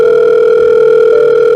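A phone call tone plays over a loudspeaker as one loud, steady, continuous electronic tone, alone and close, cutting off abruptly at the end.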